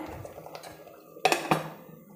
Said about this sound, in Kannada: ಒಂದು ಬಟ್ಲಿ ಇಟ್ಕೊಂಡಿದ್ದೀನಿ ಸ್ಟವ್ ಹಚ್ಚಿ